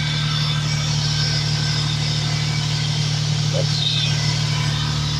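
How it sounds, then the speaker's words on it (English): A Toyota Corolla engine idles with the bonnet raised, a steady low hum that stays even throughout, heard close up. "The engine runs really sweet."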